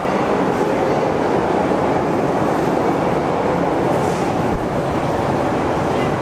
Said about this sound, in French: Et le métro qui arrive